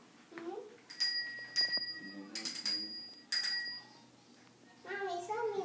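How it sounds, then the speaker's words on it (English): A small bell on a child's Disney princess bicycle rings in several bright, sharp dings, some single and some doubled, close and loud, with a voice before and after. "You ring the bell?"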